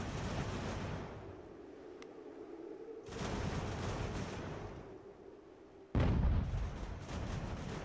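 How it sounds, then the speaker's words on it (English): Artillery booming in the strategy game Ultimate General: American Revolution, with a sustained rumbling barrage and a sharp, louder blast near the end, no talking. "Alright, our artillery's firing here."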